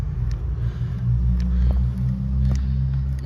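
A restored Honda Cub C70 classic motorcycle idles close by with a loud, steady low thrum, swelling slightly as the throttle is blipped.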